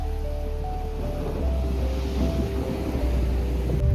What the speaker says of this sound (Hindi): बारिश तो कंटिन्यूस हो ही जा रही है और रुकी नहीं है बिल्कुल भी